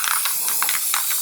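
A spray paint can sprays onto cardboard in several short, close hissing bursts with brief gaps between them and no talk.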